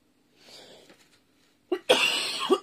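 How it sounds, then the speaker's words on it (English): A person coughing indoors: faint breathy sounds at first, then a sudden loud burst of two or three close, harsh coughs. "I feel like I have a coughing spell now."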